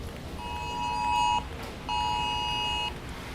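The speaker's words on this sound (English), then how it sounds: "Anyhow, another weather warning going off." A phone emergency weather warning tone sounds during a super typhoon in Angeles City, two long, loud, steady beeps separated by a short gap.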